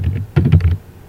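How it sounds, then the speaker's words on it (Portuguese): A single computer keyboard key, Enter, is pressed with a short close click and a brief clatter, heard alone with no talking. "Vou fechar aqui e vou dar um Enter"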